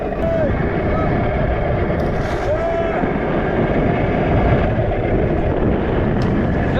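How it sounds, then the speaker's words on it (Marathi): Strong wind roars steadily across a microphone on a small fishing boat off Mumbai as waves rock the hull, a loud continuous rumble with faint whistling, and men on board call out over it. "लाटा बघा कशा येतात बेकार वारा आहे बेकार"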